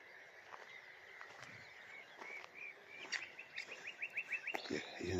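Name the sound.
nightingale singing at marsh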